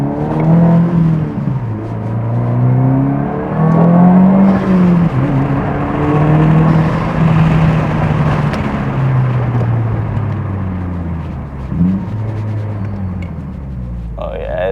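Subaru WRX, a 2022 model fitted with a big brake kit, heard from inside on a test drive, a steady engine drone rising and falling with gear changes, loud and continuous under ongoing talk.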